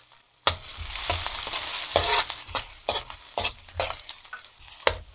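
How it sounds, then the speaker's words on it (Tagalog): Garlic sautéing in a pan, a close crackling sizzle broken by repeated scraping stir strokes and clicks of a utensil against the pan, with no voices. "Una natin kailangan gawin is igisa yung bawang sibuyas"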